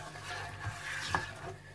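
Ginger garlic paste hits hot cumin in a pan, giving a soft, close sizzle with light stirring scrapes.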